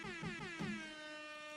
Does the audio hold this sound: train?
no